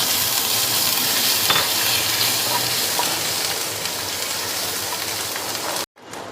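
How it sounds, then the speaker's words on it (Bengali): Ginger paste stirred into hot spiced oil for a soyabean kofta curry gives a steady, dense sizzle with spoon scrapes, cutting off abruptly near the end and then resuming briefly. "এখন এটা দিয়ে একটু নাড়া দেওয়ার পরে এর মধ্যে দিয়ে দেব আদা বাটা।"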